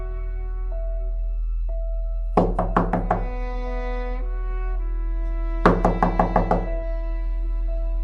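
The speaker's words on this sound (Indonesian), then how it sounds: "Bunyi ketukan tidak berhenti." Two sharp bursts of about six quick knocks on a door, each set of raps fading a little, over a low sustained music drone in a spooky story.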